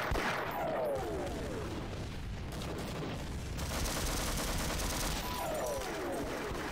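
Mortar blasts and gunfire in the first-person shooter Half-Life, a dense and continuous barrage of shots and booms with two falling whistles, fairly loud throughout.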